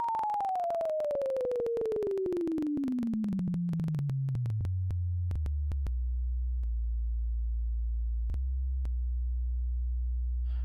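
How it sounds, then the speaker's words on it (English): A pure sine wave from a signal generator, a steady tone sweeping smoothly downward from a mid pitch into a deep low hum that then holds, with faint clicks along the way as it is adjusted. "But for this, we're going to do a sine wave."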